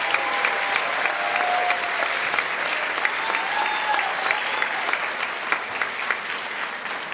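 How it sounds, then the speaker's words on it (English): Sustained audience applause honoring teachers at a Teacher of the Year ceremony, dense steady clapping from a large crowd filling the room for about seven seconds with no talking over it. "Please help me give these outstanding educators a round of applause."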